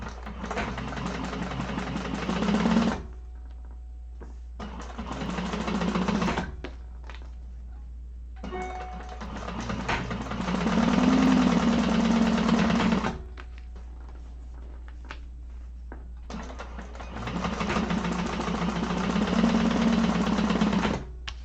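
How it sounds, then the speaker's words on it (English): A sewing machine chain stitches bag pieces in three long runs, its steady whirring hum broken by pauses with soft thunks between bursts, fairly close and with no talking. "I'm going to chain stitch these"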